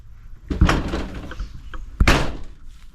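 A door slams twice during camping preparations, two sharp, loud thuds about a second and a half apart with a brief rattle after each, close by, with no talk.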